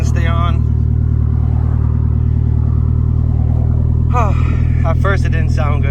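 Turbocharged 1997 Eclipse GSX engine on the road after a blown charge pipe, a loud steady low drone with rising pitch sweeps of acceleration at the start and again near the end, with someone talking over it.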